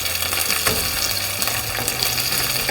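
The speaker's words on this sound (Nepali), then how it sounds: "अब मैले 2 किसिमको बेल पेपर काटेर राखेको छु, रेड र ग्रीन। अब यो दुईटै राखिदिउँ। यसलाई पनि हल्का फ्राई गरौँ।" Red and green bell peppers fry lightly in a pan for paneer chili, a loud, steady sizzle with faint stirring scrapes and no talking.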